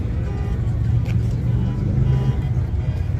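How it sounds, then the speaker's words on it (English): A Lamborghini at a cars and coffee meet rumbles with a deep, steady engine idle close by, low and full, with a faint background murmur of the outdoor gathering. "Got some nice Lambo action over here."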